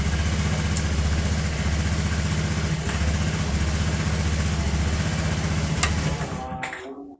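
An old Honda Vario 110 motor scooter engine idles with a steady low putter for several seconds, then abruptly cuts out into silence as a battery cable is disconnected.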